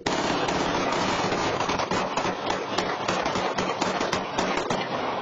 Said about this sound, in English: So a moment ago, you heard one barrage of gunfire.